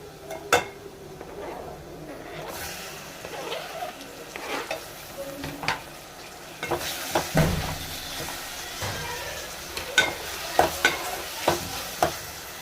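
Chopped tomatoes stirred into onions frying in a pan for a Telugu-style prawn curry, with scattered sizzling, scraping stirs and a few sharp utensil knocks against the pan, close and moderately loud.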